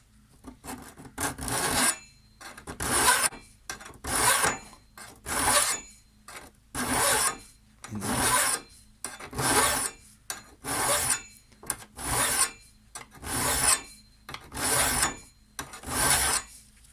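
A hand file is drawn across the blades of a STIHL HS56 hedge trimmer in a steady rhythm of about ten rasping strokes, each a short burst of scraping metal-on-metal separated by brief pauses, close and clear with no talk.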